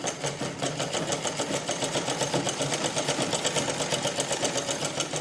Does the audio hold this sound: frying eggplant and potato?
no